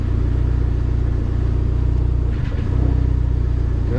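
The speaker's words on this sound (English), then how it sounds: "There's third gear, fourth gear, back into third, no pop." A Dodge SRT4 engine drones loudly and steadily under load while driving through the gears, with a brief dip around a shift before the rumbling pull resumes.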